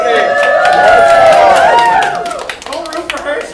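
Audience at a Ravenwood Faire fencing demonstration in a public library clapping and cheering for a fencer, a burst of applause with whoops that fades after a couple of seconds into scattered claps.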